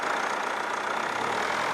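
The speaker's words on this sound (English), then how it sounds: "Let the engine rev up." A diesel car engine runs at steady raised revs of about 1,000 to 1,500 rpm, giving a continuous even hum with a faint knocking texture and no voices.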